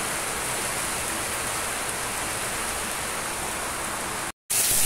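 Heavy rain pouring down in a steady, dense roar that holds loud and unbroken, with no voices, before a brief cut.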